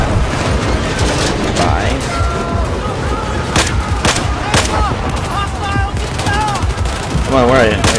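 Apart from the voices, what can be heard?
gunfire in Battlefield video game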